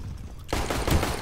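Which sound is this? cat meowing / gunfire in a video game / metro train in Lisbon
gunfire in a video game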